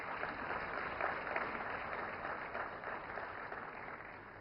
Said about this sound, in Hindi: मिस मिरियम चांडी मेनाचेरी के लिए जोरदार तालियां